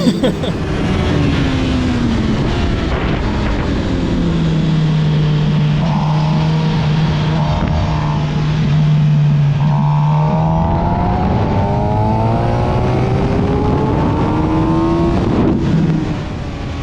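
A bike laps The Ridge Motorsports race track, its engine droning loud and steady with rising and falling pitch as it accelerates, shifts and brakes through the turns for about seventeen seconds.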